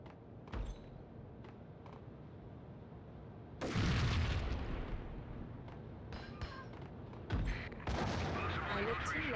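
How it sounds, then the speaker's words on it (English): An explosion in the video game Max Payne, following a bullet-time dive, sounds as a sudden muffled boom with a rumbling tail, and a second burst comes a few seconds later against a quiet background. "I looked too late, all I heard was an explosion"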